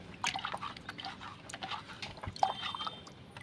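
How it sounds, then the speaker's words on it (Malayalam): Faint splashes and drips of water poured into a container, irregular small liquid sounds in a quiet setting. "കുറച്ച് പച്ചവെള്ളം കൂടി ഒഴിക്കാം"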